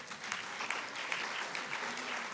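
Audience applause after a talk on Islamophobia funding, a steady wash of clapping hands from a lecture crowd, moderately loud and continuous through the short stretch with no voices over it.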